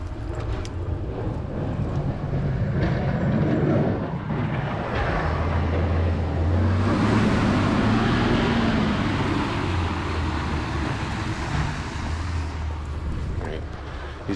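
A heavy snow plow truck rumbles past with a low engine drone and scraping, loud and close, while a person talks over it.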